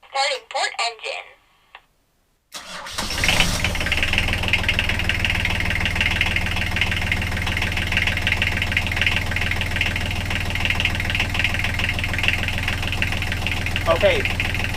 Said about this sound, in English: Starting port engine.